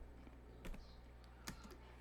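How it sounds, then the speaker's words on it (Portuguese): Keys tapped on a computer keyboard while filling in an HTML form input, a few soft scattered keystrokes at a quiet level over a low steady background hum. "vou terminar aqui de digitar tudo"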